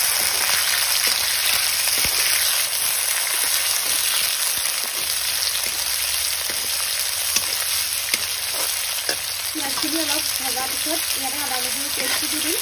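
Steady, loud sizzling of cumin and spices frying in a pan over a wood fire throughout, with faint crackles and clinks, and a brief burst of higher tonal sounds near the end.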